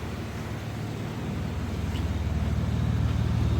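A truck pulls up nearby, its low engine rumble steady and building slightly louder over a few seconds, with a touch of wind noise and no talking.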